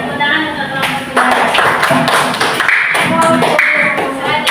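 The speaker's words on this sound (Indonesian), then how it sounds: "Tepuk tangan untuk kelompok" A classroom group claps for presenting students, a loud patter of individual hand claps with children's voices talking and calling out over it.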